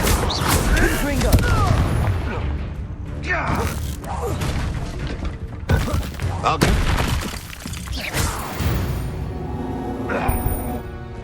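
Fiery Confringo spell blasts burst repeatedly during combat in Hogwarts Legacy, a series of loud explosive cracks and booms scattered across the stretch, mixed with clattering impacts and game noise.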